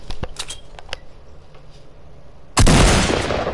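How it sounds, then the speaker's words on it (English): A video game gun fires one sudden, loud blast that cuts in abruptly and sustains a broad roar after a stretch of quieter, scattered clicks and taps. "Shoot your gun if you're in YouTube."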